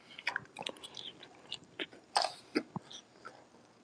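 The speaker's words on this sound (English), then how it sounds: "Eating some fries, guys." Fries are chewed close to the mic: soft irregular crunches and bites, quiet and intermittent, with no talking over them.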